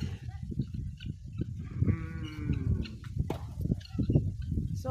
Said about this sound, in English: The cow is fighting there.